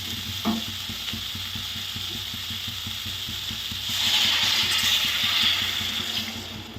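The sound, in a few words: stirring eggplant curry (palya) cooking in a pan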